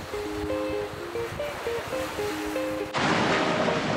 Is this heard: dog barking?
no